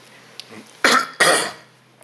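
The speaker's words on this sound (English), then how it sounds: "Sorry, keep clearing my throat." A person clears their throat twice in quick succession, close and fairly loud, after a faint earlier sound in a quiet room.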